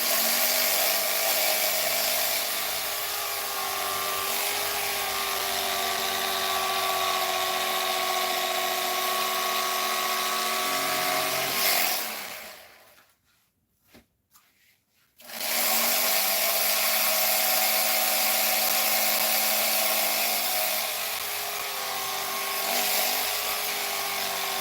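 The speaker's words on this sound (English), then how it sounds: "I might put the grinder on for just a second" A grinder whines continuously while smoothing a custom-fitted piece made for a dog, loud and close, stopping for about three seconds midway before running again at a steady pitch.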